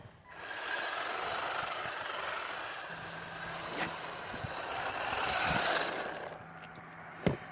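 Pinecone SG-1603 small-scale RC drift truck on drift tires running at low throttle: a continuous whirring, buzzing motor hum with a few light clicks and knocks, moderately quiet, that cuts off near the end.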